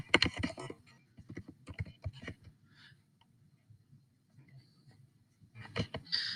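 A folder name being typed on a computer keyboard: quiet bursts of quick key clicks, separated by short pauses, with a final flurry of taps.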